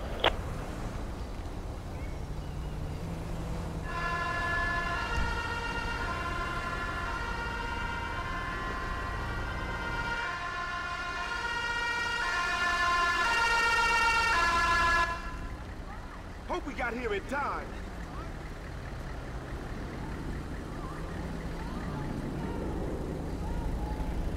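An ambulance siren in GTA V with the LSPDFR police mod wails in a rapid cycling pattern for about eleven seconds, loud and close, before cutting off, with traffic and engine rumble underneath throughout.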